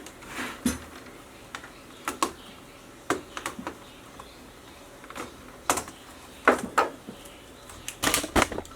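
An HP/Compaq G42 laptop keyboard is pried loose with sharp plastic clicks and snaps, scattered irregularly and close, with quiet stretches between them.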